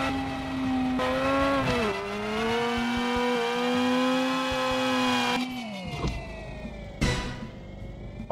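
Game car driving in the Screw Drivers video game, a steady engine drone with shifting pitch as it revs, then dropping away into clattering thumps and knocks near the end, with no talking.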